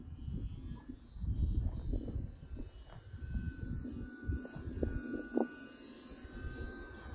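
A small Hobbyzone Champ S+ RC airplane drones faintly overhead at an open field, its thin electric motor hum rising and falling steadily under light wind.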